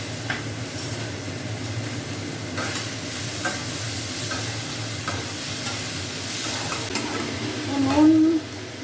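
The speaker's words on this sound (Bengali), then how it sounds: "আর তোমার সঙ্গে কথা বলতে বলতে তেলটা গরম হয়ে গেল, এবার আমি এটা ভাজাটা ছেড়ে দেবো।" Vegetables fry in hot oil in a home kitchen, a continuous close sizzle with intermittent stirring scrapes and clinks, and a brief louder burst near the end.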